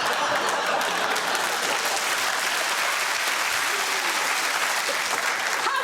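A television quiz show studio audience breaks into loud, sustained applause, a thick wash of clapping that holds at an even level from start to finish.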